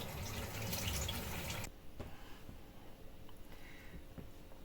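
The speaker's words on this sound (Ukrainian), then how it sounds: "наливаємо соєвого соусу" Soy sauce pours steadily for under two seconds, then stops, leaving faint kitchen clatter and quiet drips.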